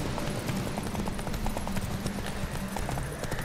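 A horse gallops in the Witcher 3 video game, hooves clip-clopping in a steady rapid rhythm, loud and continuous, with a faint bit of background noise and no talking.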